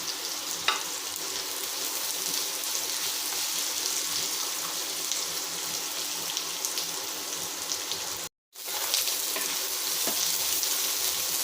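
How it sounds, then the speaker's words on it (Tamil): Onions and curry leaves frying in a pan for a chicken gravy, a steady bright sizzle throughout with a few faint stirring clicks, close and even, briefly cut off near the end before resuming. "வெங்காயம் நல்லா வதங்கட்டும்"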